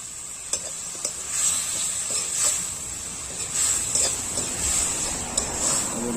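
Chili sizzling and being stirred in a hot pan while cooking a Chhattisgarh-style fish dish: a steady bright frying hiss with soft scraping strokes of a spoon, close and continuous.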